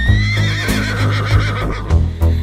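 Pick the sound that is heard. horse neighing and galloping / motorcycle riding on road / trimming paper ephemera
horse neighing and galloping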